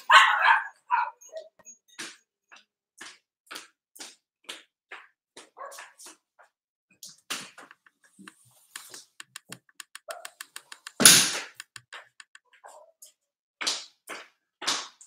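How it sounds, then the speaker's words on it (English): Dogs bark in sharp, scattered bursts, some yips and quick repeated clusters, with one louder bark in the middle. The barking carries from nearby inside a quiet room. "My dogs go crazy."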